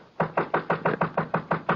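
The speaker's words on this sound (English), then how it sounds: "I heard somebody pounding at the door." Someone pounds on a door in a radio drama, about nine heavy, evenly spaced thuds in quick succession, close and solid, with no voices.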